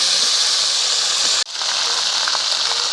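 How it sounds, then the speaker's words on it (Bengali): Dry red chili, bay leaves and panch phoron sizzle in hot oil in a wok during tempering for moong dal khichuri, a loud steady hiss that cuts out for an instant and then resumes. "এবার সম্বরা দেওয়া হবে খিচুড়িটা। তার জন্য কড়াইতে তেল, শুকনো লঙ্কা, তেজপাতা দিয়ে দিয়েছে"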